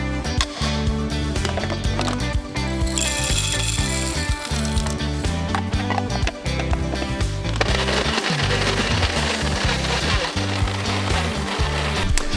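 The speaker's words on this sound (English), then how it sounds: "That thing was struggling to grind these beans" An electric grinder struggles through under-roasted coffee beans, its loud rattling, crunching whir shifting in pitch as the burrs bog down and pick back up, with a harsher, denser grind in the later seconds.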